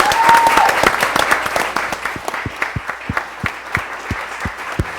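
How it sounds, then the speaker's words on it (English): Audience at a 20th anniversary show applauding the guests, a burst of dense clapping that thins into scattered, sharp individual claps as it fades, with a faint voice early on. "Let's have a big round of applause for our guests here."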